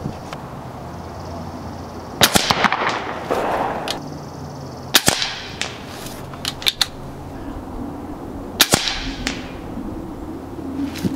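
An ATI Nova Liberty air rifle fires slugs, giving several sharp, close cracks spaced a few seconds apart, each followed by faint mechanical handling noises.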